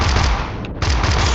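Gun firing in the video game Echoes of Five, loud rapid automatic shots in a continuous burst with one brief pause.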